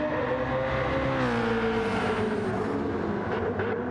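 A BMW Z4 in the Gran Turismo racing game drones steadily at high revs, a continuous buzzing engine note with a slowly sliding pitch, loud and unbroken with no talk over it.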